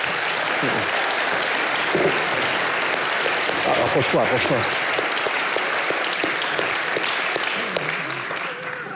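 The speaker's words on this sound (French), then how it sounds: "On va applaudir." An audience applauds after a conference talk, a dense, steady burst of clapping lasting throughout, with a brief spoken word heard over it.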